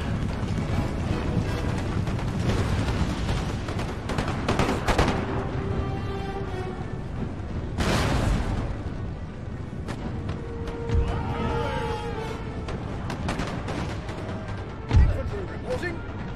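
Repeated Puckle gun volleys crackle across a battle in Empire: Total War, with booming shots, wind and rumbling surges recurring over the sixteen seconds while someone talks over the din.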